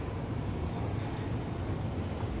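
Steady rumbling of a train running along its track in Satisfactory, a continuous low roar with faint rail noise and a thin high whine, even and close throughout.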